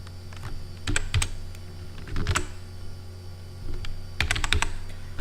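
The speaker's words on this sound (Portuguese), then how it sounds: "aqui eu vou digitar Content" Keys on a computer keyboard are tapped in short irregular bursts, a few clicks at a time separated by brief pauses, close by over a faint steady hum.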